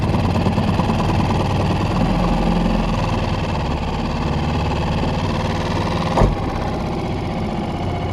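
A boat engine idles steadily in Dana Point Harbor, a continuous low, even rumble with a brief knock near the end and no voices.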